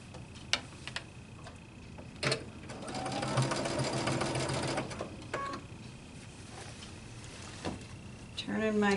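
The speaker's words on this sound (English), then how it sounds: "When I start sewing at the seam line under the arm." A domestic sewing machine stitches a tunic's underarm seam at the sleeve, with a steady rapid whirring run of several seconds between softer clicks and handling noises, close by and fairly quiet.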